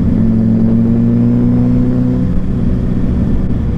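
A car engine drones loudly and close at a steady pitch for a couple of seconds, then its tone drops away as the car moves past, leaving a rougher road rumble.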